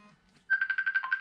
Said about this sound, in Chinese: 哎呀，朋友的电话。